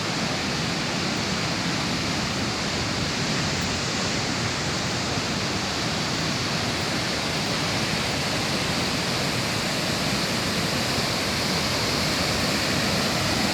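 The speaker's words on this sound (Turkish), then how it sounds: "Çetmi Şelalesi" Constant, loud roar of rushing water from Çetmi Waterfall in Taşkent, Konya, an unbroken broadband wash with no pauses or voices.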